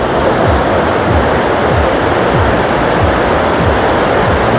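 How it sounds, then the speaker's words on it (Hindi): Big ocean waves crash at a beach in Bali, a loud, steady roar of surf with no break, rumbling and dense like close breakers, with no voices over it. "कितनी बड़ी बड़ी लहरें आ रही हैं।"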